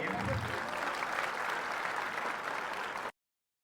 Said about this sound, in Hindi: सभी की तालियां रुकनी नहीं चाहिए।